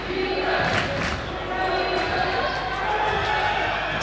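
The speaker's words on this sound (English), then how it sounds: "Listen to the benches noise." Crowd and bench noise at a women's university basketball game, UOB Women 1 against Wolverhampton 1: a loud, steady wash of shouting and cheering with a few sharp ball bounces, under a commentator's voice.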